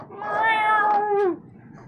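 A single drawn-out cat meow, close and clear, rising then sliding downward before cutting off, used as a sound effect for skeletal cats.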